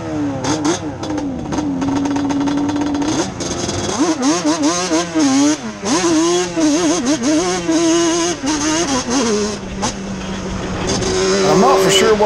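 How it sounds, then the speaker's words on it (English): Drag motorcycle engine, a blaster running on a moto GP track, revving through gears and bogging after an early shift into high gear; loud and close, the pitch rising and dipping unevenly with steady engine drone throughout. "I loaded it up on fuel and shifted to a high gear too quick, and it bogged a little"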